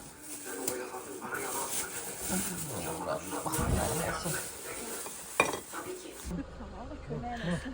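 Onion thrown into a hot frying pan in a village kitchen, a steady close sizzle with utensil clatter and stirring while people talk over it.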